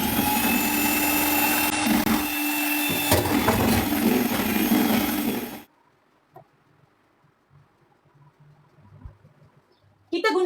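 Electric mixer whipping eggs and sugar into cake batter for a layered Surabaya cake, a loud continuous whirring drone that runs for about five seconds, stops abruptly, leaves near silence, then briefly restarts at the end.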